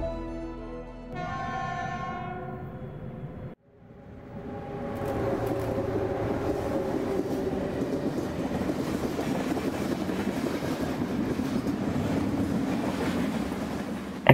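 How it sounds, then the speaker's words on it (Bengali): A long-distance train rattles steadily past, loud and close for most of the stretch, with a rhythmic clatter of wagons; a sustained horn-like tone opens before the roar builds. "একটা দূরপাল্লার ট্রেন ঝমঝম করে বেরিয়ে গেল।"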